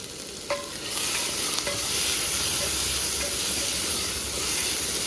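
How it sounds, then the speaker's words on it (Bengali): Vegetables seasoned with turmeric and salt fry in a pan with a steady bright sizzle and hiss, broken by a few light clicks of stirring, with no one talking. "এবার সুন্দর করে ভেজে নেব।"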